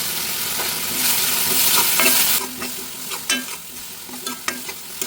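Ginger, curry leaves and onion sautéing for a koorkka masala, a loud close hiss that swells, then sharp scraping stirs against the pan in an irregular rhythm.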